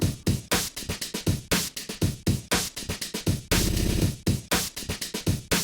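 Five amen drum breaks layered together and played dry with no effects: dense, rapid kick, snare and cymbal hits in a busy breakbeat rhythm, loud and continuous, with a brief sustained burst partway through.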